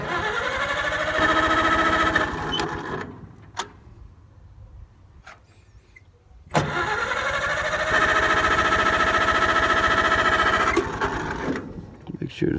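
An old farm engine, converted to 12 volt but keeping its pull start, runs loudly and steadily up close, with a rapid chattering beat; it drops away for a few seconds and then surges back to a full, continuous run.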